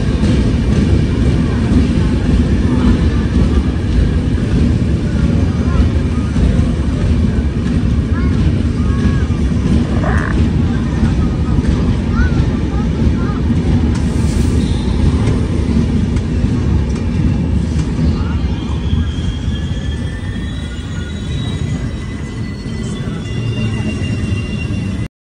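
A passenger train pulls out of Phillaur Junction station in Punjab, a loud, steady low rumble with wind buffeting throughout, the noise level holding constant as it gets under way.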